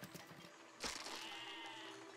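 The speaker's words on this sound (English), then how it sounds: "Sheep." A sheep in the video game Besiege bleats once, a single wavering cry that rises suddenly and trails off over a quiet background.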